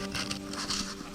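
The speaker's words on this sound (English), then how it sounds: "The mosquitoes out here are next level." Mosquitoes swarm against a tent's rain fly, a dense, continuous whining buzz up close, with light pattering taps as insects strike the fabric.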